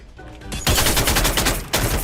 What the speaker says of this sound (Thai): ยิงปืนระเบิดไปก่อน